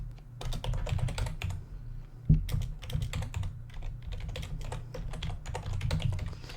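Keys on a computer keyboard clatter in a steady, close run of crisp clicks over a low background hum, with one louder thump partway through and no talking.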